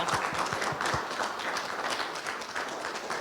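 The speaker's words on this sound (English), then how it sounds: "So we applaud? I think so." A small group claps briefly after health care workers receive some of the first vaccines in Chicago, a short burst of applause in a clinical room that fades into steady background noise.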